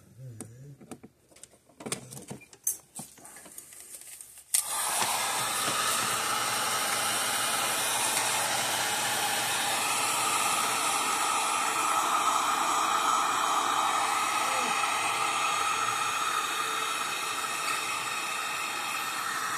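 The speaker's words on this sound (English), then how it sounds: "heat gun." A heat gun shrinking heat-shrink tubing during repair of a Premier 1 Intellishock 77B shock absorber blows a loud, steady, close airy hiss that runs unbroken for about fifteen seconds after a few seconds of handling clicks.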